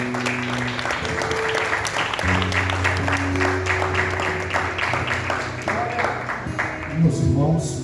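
A church congregation claps for the pastor during a worship service, a steady wash of applause lasting several seconds, with sustained low tones from a keyboard or organ beneath and a voice briefly heard near the end.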